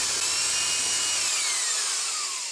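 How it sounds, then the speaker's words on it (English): A high-pitched drill whines steadily and loudly, its pitch slowly sliding downward as it bites into the center of a metal pop rivet, with no talking. "You just want to take a drill and put it right in the center"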